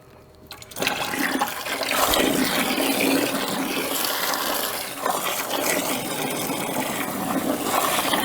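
Water gushes from the built-in hose of a B12V batch machine, a steady rushing stream that starts abruptly after a brief pause and runs on loudly and continuously for several seconds.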